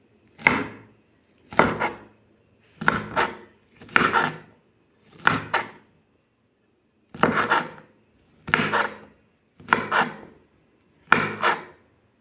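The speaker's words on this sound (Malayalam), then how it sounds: "നമ്മൾ അരിയാൻ പോണേ" Knife chopping long yard beans (achinga payar) on a board, nine evenly spaced crisp cuts, close and clear with short pauses between strokes, no talk.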